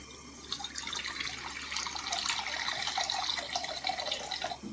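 Water runs and splashes steadily into a pan for making Maggi noodles, a continuous hissing trickle with small drips, close by and with no voices.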